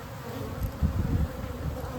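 Honeybees buzz densely around a hive as it is moved by a mini excavator, a close, steady low drone with small swells and no talking.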